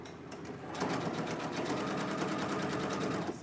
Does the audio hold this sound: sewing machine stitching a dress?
yes